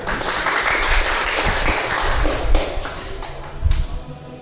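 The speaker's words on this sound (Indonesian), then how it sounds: "tepuk tangan buat kita semua" An audience at a school award announcement claps together, a dense burst of applause with scattered heavier thumps, fairly close and sustained throughout, fading slightly toward the end.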